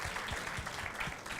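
An audience gives a short burst of continuous clapping for a speaker at a conference talk, moderately loud and even throughout.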